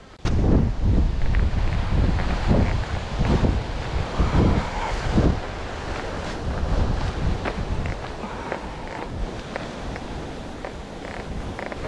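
Strong wind on a wild night at Tapanappa on the Heysen Trail buffets the microphone in loud, rough gusts that roar continuously, easing slightly toward the end, with no voices.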